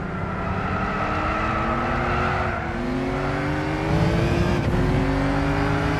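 A racing car's engine in Gran Turismo 6 drones loudly and continuously, its pitch sliding upward as it accelerates and then climbing again after a brief dip, with no voices over it.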